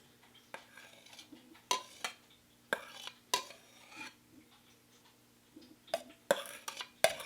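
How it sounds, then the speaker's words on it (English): A spoon scrapes whipped dalgona coffee from a bowl in sharp, irregular bursts of clinking and scraping, close and fairly quiet, with short pauses between strokes. "Really scraping everything out of here."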